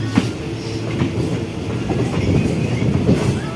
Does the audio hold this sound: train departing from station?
yes